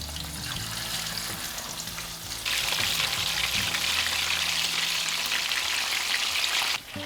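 Barracuda fillets frying in hot oil in a pan give a steady, dense sizzle that swells louder partway through and keeps crackling up close, with no talking.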